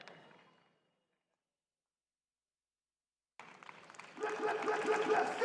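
Crowd applause and cheering at a pickleball tournament final, a short fading burst and then, after a silence, a dense and steadily growing roar of clapping that swells toward the end.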